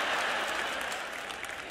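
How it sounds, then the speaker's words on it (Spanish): An audience breaks into steady applause at a sermon, a dense wash of clapping hands that holds evenly for a couple of seconds and then eases slightly. "no hubo suficientes aplausos para eso"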